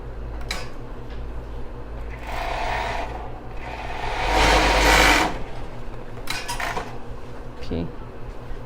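A sewing machine stitches elastic lace onto a bra in short bursts of rapid whirring, one louder run in the middle, with light rustling and handling of fabric between them.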